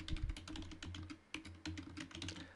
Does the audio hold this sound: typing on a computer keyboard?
yes